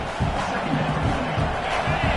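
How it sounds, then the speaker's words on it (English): A stadium crowd roars steadily in a College Football 26 online dynasty game, a dense wall of cheering and shouting that holds without a break from start to finish. "This crowd bringing the energy and noise early"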